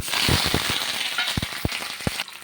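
Onion, ginger and curry leaves frying in ghee with pepper, cumin and mustard seeds for pepper pongal, a close, steady sizzle with scattered sharp pops and crackles throughout.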